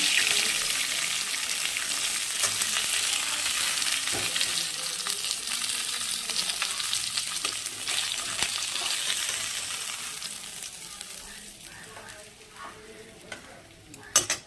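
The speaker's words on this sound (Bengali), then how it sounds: "এক পিট ভাজা হয়ে গেছে এবার আর এক পিট ভাজা হলেই আমি তুলে দেবো" Pieces of poa bhola fish fry in oil with a loud, continuous sizzle close by, which eases off slightly toward the end as a few stirring scrapes cut in.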